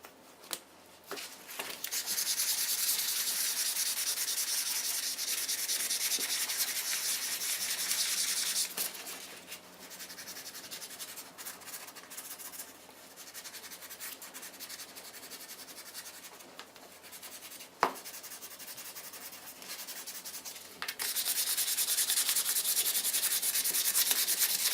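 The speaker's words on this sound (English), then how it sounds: "Starting here with some 320 grit sandpaper." Laminated knife handles are rubbed by hand with 320 grit sandpaper in close, steady scratchy strokes, pausing briefly midway before resuming more strongly, with a single sharp knock partway through.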